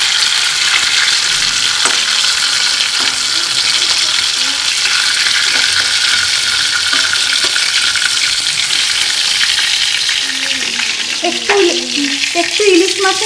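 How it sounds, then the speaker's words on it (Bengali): Hilsa fish pieces fry in hot oil, turned over side to side, giving a loud continuous close sizzle with scattered scrapes and clinks of the utensil, busier toward the end. "মাছগুলোকে একটু এপিট ওপিট করে ভেজে তুলে নেব।"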